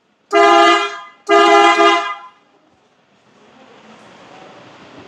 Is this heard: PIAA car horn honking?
yes